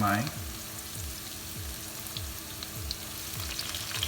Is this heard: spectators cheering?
no